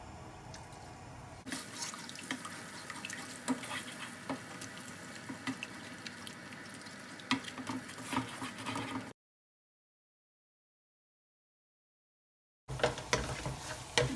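Beaten egg with a little salt frying in a pan for spicy chicken fried rice, a steady watery sizzle running for several seconds, cutting out to silence, then returning briefly.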